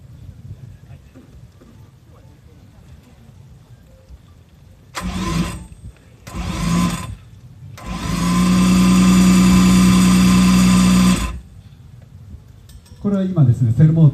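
A Honda RA272 Formula 1 car's dry-sump engine is cranked by its starter motor: two short loud bursts, then it catches and runs steadily for about three seconds before cutting off, with a voice speaking afterward.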